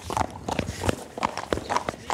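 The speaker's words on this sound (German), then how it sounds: "Hannas Pferd Chapeau will nicht in den Transporter" Several heavy hoof stamps and clops on hard ground, close and uneven, from a horse refusing to be loaded into a transporter, with brief bits of voices mixed in.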